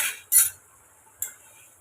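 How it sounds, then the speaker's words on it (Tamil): Spoon scraping and clinking in a pan while fried eggs are mixed into egg curry: two short metallic strokes, a half-second apart then another after a pause, close and fairly crisp, with quiet gaps between. "இப்போ நம்ம முட்டை பொறிச்சு வச்சோம் பார்த்தீங்களா அதையும் நம்ம சேர்த்துக்கலாம்"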